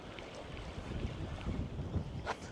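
Wind gusts across a coastal fishing pier, making a low, rumbling buffet on the microphone that swells and dips throughout, with no talking.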